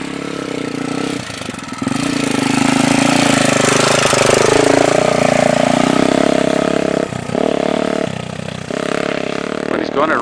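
Suzuki DRZ 400 motorcycle engine running steadily with a mid-pitched drone and shifting revs, strong throughout with a few brief dips, while people talk over it.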